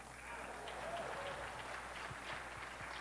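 An audience at an ASEAN 2017 financing forum applauds in a hall, a steady wash of clapping that holds for a few seconds at moderate level.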